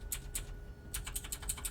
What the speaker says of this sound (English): You can change the brush size by clicking on the bracket keys to the right and to the left of your keyboard